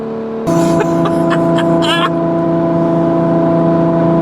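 A tuned Ferrari with its exhaust valves open revs hard and loud, a steady, dense engine roar holding through the clip after a sudden jump in volume, with a brief burst of higher-pitched rasping near the start.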